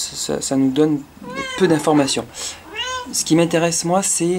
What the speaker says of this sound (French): excusez-moi, c'est mon chat